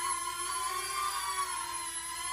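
A small toy drone hovers nearby, giving off a steady, unbroken high-pitched whine from its spinning propellers that holds nearly constant throughout.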